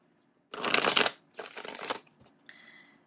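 Tarot cards being shuffled in two quick, close riffling bursts, then a soft card draw and a brief faint tone.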